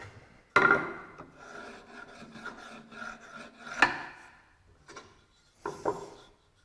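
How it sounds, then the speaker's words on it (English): A sharp chisel scrapes along the bottom of a dado cut in wood, producing several close, rasping strokes of uneven length with brief pauses between them, and no talking. "just take a good sharp chisel and you scrape it along and smooth it all out"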